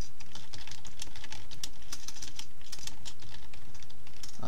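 Rapid, irregular clatter of fingers typing on a computer keyboard, close up and continuous with no talking.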